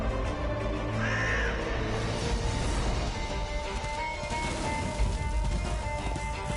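A crow caws in the video game Darksiders 2 over a dense bed of game music and ambience, its cry rising briefly near the start of the passage.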